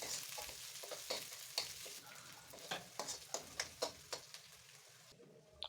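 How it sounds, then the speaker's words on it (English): Diced garlic, spring onions and green pepper sizzle in a pan on high heat, a steady crackling fry broken by a run of sharp, regular stirring scrapes near the end, with no one talking. "garlic and my spring onions and green pepper. I will saute this on high heat for 10 seconds"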